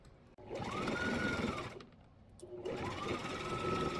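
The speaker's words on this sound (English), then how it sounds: "We are going to stitch all the way around except for the bottom" Sewing machine stitching around the sides of a fabric tote bag, running in two steady motor bursts with a short pause between them, close and fairly loud with no talk.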